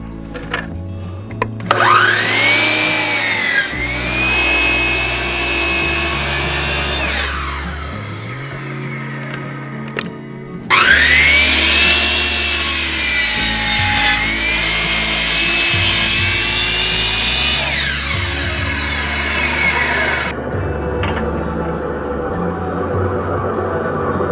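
A miter saw cutting a 30 degree angle through a wooden board for a hexagon flower bed, two loud cuts, each with a motor whining up, a rasping bite through the wood and a spin-down.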